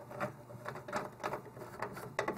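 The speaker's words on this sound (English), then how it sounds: "So now I'm going to take this screw and put them in." A screwdriver turns motherboard screws into standoffs, producing a quiet series of close, rhythmic ratcheting clicks and scrapes with short pauses between turns.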